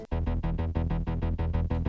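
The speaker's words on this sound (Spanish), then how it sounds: "Para el subgrave hemos realizado un bajo que suena así." A deep, pulsing synth bass line repeats in steady notes, heavy low end with a brief gap at the start, played alone and loud.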